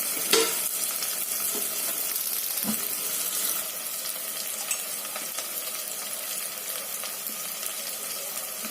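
Steady sizzling of food frying in a pan, with occasional stirring clinks and scrapes, close by and continuous with no talking.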